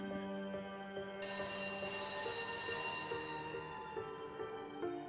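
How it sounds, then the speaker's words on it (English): A school bell rings with a sustained, tonal clanging that keeps going under steady background hum, moderately faint, no talk. "That's the bell."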